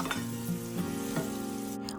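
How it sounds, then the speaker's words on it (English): Onions, bell peppers and mushrooms sautéing in a pan for a Philly cheesesteak give off a constant sizzling hiss, close and steady, with faint tonal hum beneath it. "I'm also going to add my mushrooms because I want to make sure I saute everything together."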